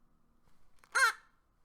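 A single harsh caw from a raven, loud and close against near silence, following a few faint soft sounds.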